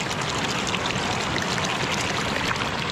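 Spring water from a field runs in a steady, dense rush and splash, constant and close for the whole stretch with no other sounds.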